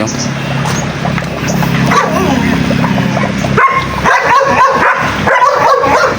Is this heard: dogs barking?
yes